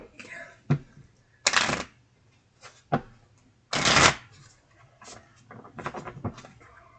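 Moonology oracle cards are shuffled in several short bursts of riffling and flicking, close and crisp, separated by quieter handling noises and brief pauses.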